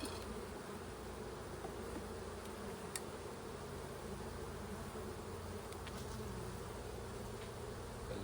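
Honey bees buzz steadily from an opened hive during a beekeeping inspection of frames, a dense, continuous hum close up with no talking.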